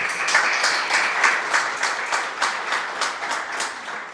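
A church congregation applauds together, a dense, steady wash of many hands clapping at an even level with a faint pulsing rhythm, fairly loud and continuous, with no voices standing out.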